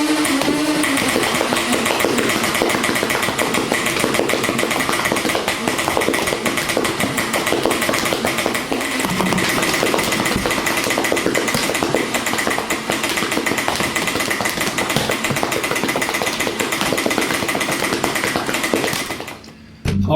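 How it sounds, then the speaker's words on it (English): A motorized Nerf Rival Prometheus blaster fires continuously on a firing range, its loud flywheel whine and rapid mechanical clatter running nonstop for about nineteen seconds before abruptly stopping. "that was my quick overview and demo of the firing"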